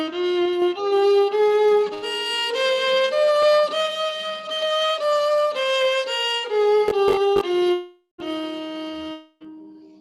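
The seven notes of a Carnatic scale are played one after another as plain, sustained tones without ornamentation, rising in a steady sequence, loud and close, followed by a few short clicks and a brief pause.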